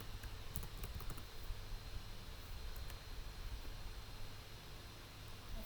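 Typing on a computer keyboard: faint, quick clusters of key clicks over a steady hiss of background noise, with no voices.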